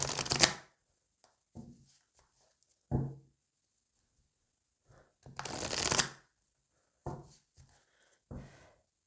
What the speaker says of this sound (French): on va les recouvrir avec l'oracle d'Annabella